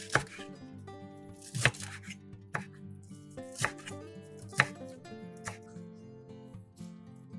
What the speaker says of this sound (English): Cut the vegetables into bite-sized pieces.